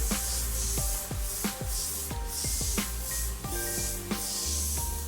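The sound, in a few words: airbrush spraying white paint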